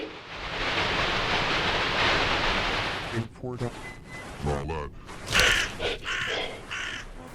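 Crow caws echo inside a house in a horror video game, a few harsh calls rising after a stretch of loud broadband noise, with clear caws near the middle and end.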